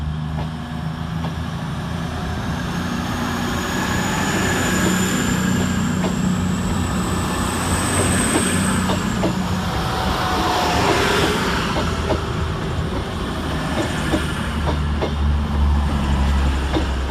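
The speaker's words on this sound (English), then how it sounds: "Puffing around the corner is your star turn today in the 4 mile 45596 Bahamas and 45690 Leander" Steam locomotives 45596 Bahamas and 45690 Leander working together through Chester station, a steady broad rumble and hiss of a train drawing in, with a high whistle-like tone sliding through and no talk over it.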